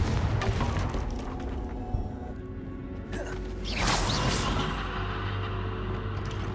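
A fiery blasting spell goes off in Hogwarts Legacy: a thump near two seconds, then a rising whoosh and burst around three to four seconds, settling into a low rumbling tail under faint game ambience.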